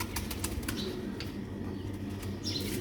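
Pigeons of an old breed kept by a fancier, with soft wing flaps and faint cooing over a low steady background hum, fairly quiet throughout.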